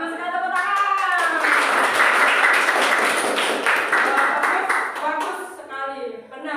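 Students in a classroom break into a burst of clapping that lasts several seconds, heard close and fairly loud, with a voice speaking just before and after.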